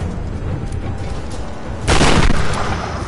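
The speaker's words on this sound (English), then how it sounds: "First off, shotgun. Incendiary rounds." A shotgun loaded with incendiary rounds fires in the Tomb Raider video game, a loud, sudden blast that cuts through a rumbling combat background and then lingers as a dense roar, with no speech.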